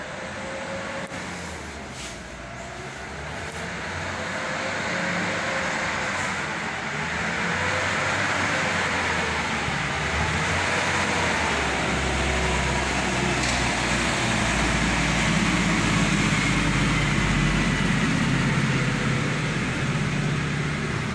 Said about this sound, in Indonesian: Suara truk tangki air menyiram tanaman rumput-rumput yang ada di lapangan